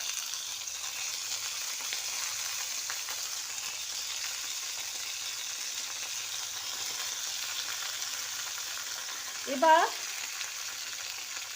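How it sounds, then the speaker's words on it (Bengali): Mixed vegetables sizzle and fry steadily in a pan, a soft continuous hiss throughout, with a brief word spoken near the end. "সবজিগুলো একটু ফ্রাই হবে।"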